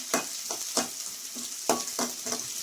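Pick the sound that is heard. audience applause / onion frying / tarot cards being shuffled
onion frying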